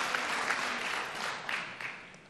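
Audience applause at a televised congressional debate, a steady broadband patter of clapping that holds at a moderate level throughout without voices.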